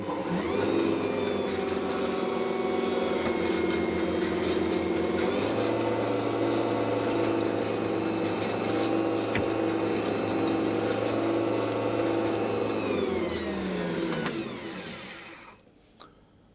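An Ankarsrum stand mixer combining sugar into dough runs with a steady, loud motor drone and a low rumbling hum, shifting pitch slightly partway through before winding down and stopping near the end.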